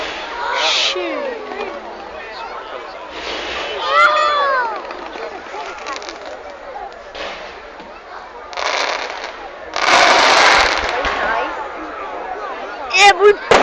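Outdoor fireworks in King's Lynn go off in scattered bursts and bangs, some with whistling trails, while nearby people shout and talk excitedly.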